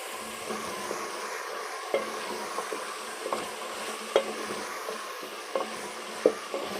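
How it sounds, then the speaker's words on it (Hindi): Finely chopped onions fry in a pan for an aloo sabzi, giving a soft continuous sizzle with scattered stirring clicks and scrapes, close but fairly quiet, with no voices. "और अब मैं ये जो प्याज बारीक बारीक कटा हुआ है ये भी इसमें डाल दूँगी।"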